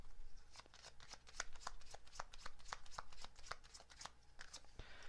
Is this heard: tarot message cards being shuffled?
yes